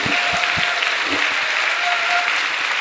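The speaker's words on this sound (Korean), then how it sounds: "지금까지 장시간 대화해 주신 우리 정운찬 전 국무총리님께 뜨거운 박수 한번" An audience at a talk concert in Andong gives former Prime Minister Chung Un-chan warm applause, loud and continuous clapping from a full hall, with faint voices underneath.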